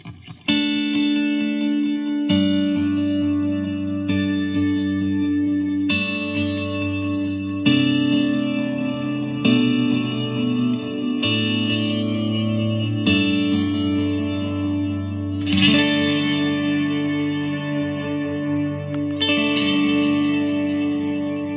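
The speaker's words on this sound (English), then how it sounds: "You get the clean sound from the DD20 mixed in with the distorted delay sound of the copycat" Electric guitar played through a Boss DD-20 and an Alter Ego X4 dual delay pedal setup, blending clean and distorted repeats: sustained chords change every couple of seconds, washing into dense echoing tails, loud and continuous with no talking.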